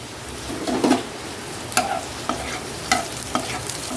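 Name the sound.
cumin frying in pan for taro curry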